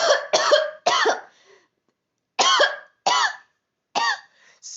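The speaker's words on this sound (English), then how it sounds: "excuse me guys, I coughed" A person gives a string of sharp, close coughs: three quick ones in a burst, a pause, then three more spaced out, each a short harsh bark that trails off.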